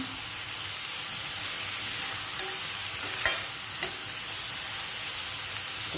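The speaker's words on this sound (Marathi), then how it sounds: "छान असं परतून घेऊया थोडा कांदा नरम होईपर्यंत तो आपण शिजू द्यायचा" Chopped onion sautéing in a pan until soft, a steady close sizzle with a few sharp clicks of a spoon stirring against the pan, and no talking.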